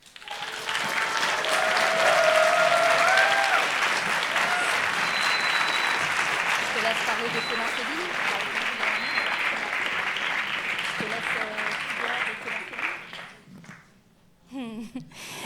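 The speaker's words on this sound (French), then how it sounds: "Donc merci d'applaudir Claire." An audience at an evening event breaks into sustained, dense applause that stays loud for most of the stretch, then thins out and fades near the end.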